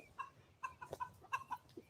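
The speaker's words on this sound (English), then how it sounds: "Look, all the chickens are coming." Chickens cluck nearby in a series of short, soft, irregular clucks spread over a couple of seconds, quiet with faint outdoor background.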